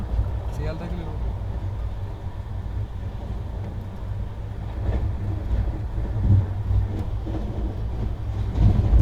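Running rumble of the Tejas Rajdhani Express in a 3AC coach on the Patna to Delhi route, heard from inside: a steady low-frequency roar with faint rhythmic clatter, growing slightly louder toward the end, with no talking.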